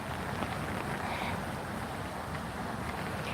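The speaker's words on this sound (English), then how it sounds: "It's already raining." Steady rain falls outdoors on a dark, cloudy day, a dense hiss that holds evenly throughout, with no voices over it.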